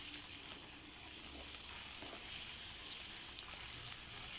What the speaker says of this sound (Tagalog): Sabay na rin natin ang ating bell pepper. Konting gisa lang yan. Konting prito lang.